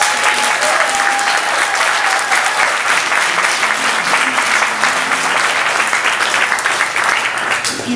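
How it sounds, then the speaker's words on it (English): A live show audience gives performer Minton Sparks a loud, sustained round of applause, dense clapping with a few cheers layered over a faint low hum from the venue. "I think we need one more round of applause for Minton"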